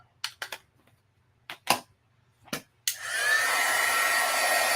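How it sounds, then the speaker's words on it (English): Handheld dryer blowing over freshly stamped ink, steady close whoosh that starts after several sharp clicks and knocks, then runs loud and constant to the end. "Let me dry this down a little bit."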